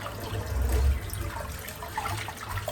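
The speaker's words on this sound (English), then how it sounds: "let's rinse the sink out" Water running into a sink as it is rinsed out, a soft splashing trickle with a fuller gush early on, close by and fairly quiet, no voices over it.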